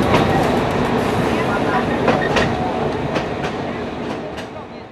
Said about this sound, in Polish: Albo może wagonika bieszczadzkiej kolejki leśnej w Majdanie koło Cisnej.